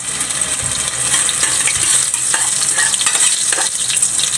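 Ginger and turmeric sizzle steadily in a hot pan while a utensil stirs and scrapes through them, loud and close, with no talk.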